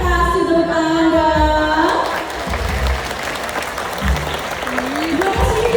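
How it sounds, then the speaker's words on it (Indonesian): Audience applause after an elephant show at Taman Safari Prigen, a dense, loud, sustained clapping crowd throughout, with an amplified announcer's voice over it at the start and toward the end. "Kasih tepuk Anda."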